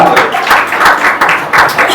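A church congregation claps its hands together at a Sunday worship meeting, giving a steady run of fairly loud rhythmic claps while voices carry over it.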